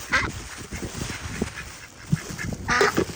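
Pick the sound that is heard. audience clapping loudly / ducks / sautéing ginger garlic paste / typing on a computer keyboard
ducks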